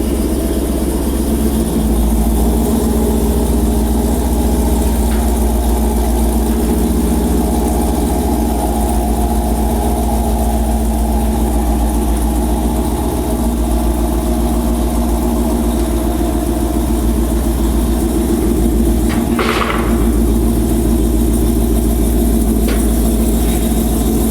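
A Dodge Hellcat Magnum AWD engine idles steadily and loud for the whole stretch, a deep continuous rumble with a brief rise in noise partway through and no talking.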